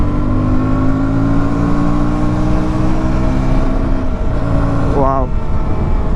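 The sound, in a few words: KTM Duke 160 motorcycle accelerating to overtake on highway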